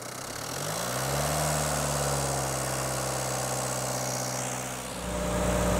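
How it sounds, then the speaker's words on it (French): A car engine runs at a raised idle of about 1900 rpm, the accelerator wedged, during an air conditioning recharge, a steady close hum with a slight dip in pitch near the end. "je vais faire tourner le moteur un peu plus vite"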